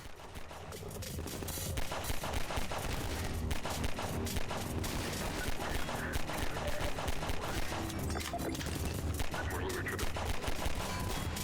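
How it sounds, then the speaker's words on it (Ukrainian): Rapid, dense gunfire in Half-Life 2, pistol shots crackling continuously over busy game sounds and music, loud and sustained throughout. "Доки є набої на пістолет, стріляємо з пістолету."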